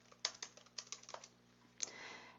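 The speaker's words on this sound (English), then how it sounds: "you type your response here." Fingers tap out a short burst of keystrokes on a computer keyboard, close and fairly quiet, in an uneven rhythm of about a dozen clicks with a brief pause, ending in a softer rustle.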